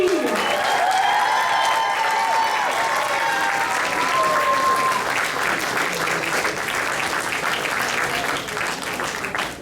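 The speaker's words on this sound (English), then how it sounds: "And a big round of applause for Alexis Borowski." Sustained loud applause from a large crowd at a Ukrainian dance school's year-end show for a departing dancer, continuous thick clapping with a few shouts and whistles, easing slightly toward the end.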